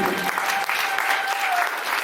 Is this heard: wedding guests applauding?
yes